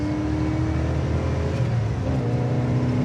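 Engine of a 1968 Plymouth Road Runner on bias-ply tires, running steadily while the car drives: a continuous low, even drone heard from inside the car, with no talking.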